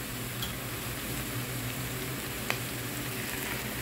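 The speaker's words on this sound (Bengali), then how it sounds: "আদা রসুনটা একটু পেঁয়াজের সাথে ভেজে নেব" Ginger garlic paste fries with onions in a pan, giving a steady, even sizzle throughout, with one small click partway through and no voices.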